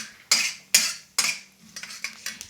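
A metal utensil scrapes and knocks against a pan of cumin and mustard seeds for an aloo gobi, three sharp strokes followed by quicker, softer scrapes, close up with no talking.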